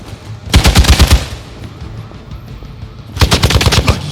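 Rapid machine-gun bursts in the Midnight Suns video game, a loud close volley of about a dozen shots, a pause, then a second burst of similar length.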